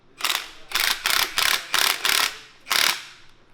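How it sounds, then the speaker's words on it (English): An impact wrench tightens the pitman arm nut on the front end of a Ford Explorer Sport Trac, giving six loud rattling bursts in a row, each under a second long with short pauses between, close up and without talk. "We're just going to impact it on for now so we can get the arm seated."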